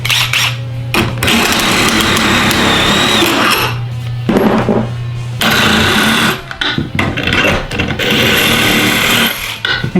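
A drill-powered DPT wrench whirs loudly in close bursts of high-speed spinning, several runs separated by short pauses and brief clicks.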